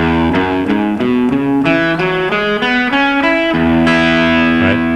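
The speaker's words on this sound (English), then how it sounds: "That's the sound of the major pentatonic." A guitar plays the major pentatonic scale in open position, a steady stepwise run of ringing notes with a slightly driven, effected tone, loud and close with no voices.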